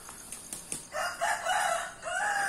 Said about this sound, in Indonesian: ada juga ternak ayam ya, ayam-ayam yang sifatnya tuh ya dilepas begitu aja ya ayamnya